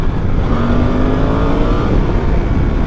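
Suzuki V-Strom 800DE adventure motorcycle pulling hard in second gear, a loud, close, steady engine roar whose pitch climbs slowly, with no talking.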